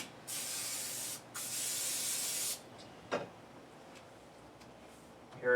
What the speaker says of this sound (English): always spray your baking dish